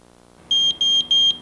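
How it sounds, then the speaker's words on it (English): A MicroMax Pro gas detector sounds its audible alarm: three loud, shrill electronic beeps in a steady even rhythm, each lasting about a quarter second, very close and piercing with no voices. "The MicroMax Pro provides both audible and visual alarms."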